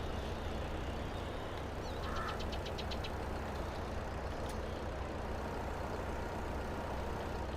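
Tractor engine in Farming Simulator 22, a steady low diesel rumble with a knocking idle running continuously and close, a brief beeping tone partway through, no voices.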